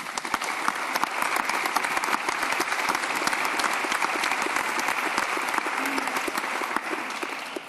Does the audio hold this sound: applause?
yes